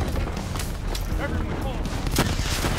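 Sustained gunfire from a firefight in Call of Duty Black Ops III during an energy-shield boss fight, dense bursts and booms layered over game voice chatter.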